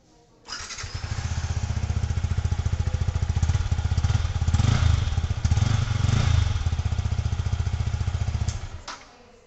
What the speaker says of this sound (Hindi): अब मैं एक बार आपको पहले एग्जॉस्ट ऑन करके सुना देता हूँ